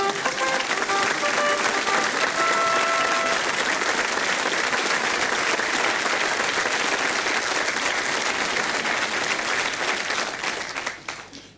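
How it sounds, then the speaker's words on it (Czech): Loud, dense audience applause at a Czech television variety show in a circus-ring setting, sustained for about ten seconds before fading, with no voices over it. "Nechte toho, na potlesk jsem zvyklý."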